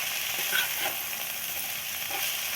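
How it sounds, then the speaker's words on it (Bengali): Fenugreek greens with potato, eggplant, salt and spices sizzle in a hot pan while being stirred and mixed, a dense continuous frying hiss with soft scraping, close and unbroken. "আমি এবার শাক আর সব মশলাগুলোকে ভালো করে মিশিয়ে নিচ্ছি"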